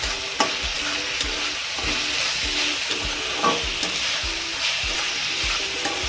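Onion and curry leaves frying in a pan for egg bhurji, stirred repeatedly with rhythmic scraping strokes over a steady close sizzle, with no voices.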